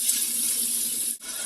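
Water pours steadily from a tap into a pan during a pineapple shrimp stir-fry, a bright continuous splashing hiss that cuts off abruptly near the end.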